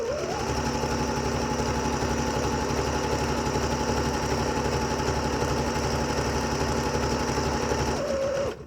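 A sewing machine stitching fabric while pins are pulled out along the seam: a fast, even mechanical rattle running steadily and close, stopping abruptly at the end.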